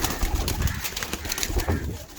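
Pigeons coo softly at a breeder's loft, low murmuring calls repeating close by amid faint rustling and background noise.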